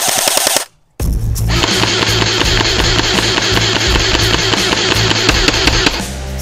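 A Barra 400e electric BB gun fires full auto in a loud, rapid, unbroken mechanical rattle lasting several seconds, just after a short burst and a brief pause.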